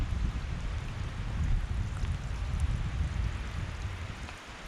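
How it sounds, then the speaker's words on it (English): A steady, dense patter of rainwater dripping from trees fills a quiet forest on a hiking trail, with no voices. "It's just dripping off the trees right now."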